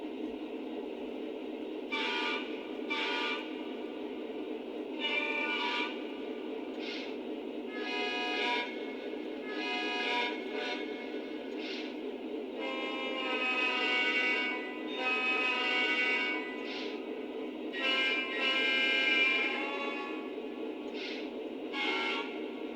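A Lionel Legacy Norfolk Southern SD45 model diesel locomotive horn sounds in a series of blasts, some short toots and some long, over a steady engine rumble; close and clear.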